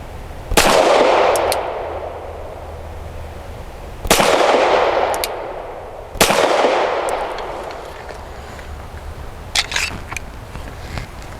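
Three loud, sharp pistol shots from a Canik SFx Rival S firing steel-cased ammunition, spaced a few seconds apart outdoors, each ringing into a decaying echo, followed by faint clinks.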